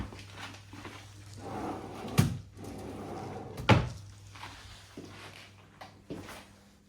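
Wooden drawers under a double bed in a student accommodation room slide open and shut, with two sharp knocks and a softer bump over a low room hum, close and with no talking.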